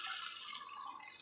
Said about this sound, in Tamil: இப்போ நாம் இதில் தண்ணி வந்து சேர்த்துக்க போகிறோம்.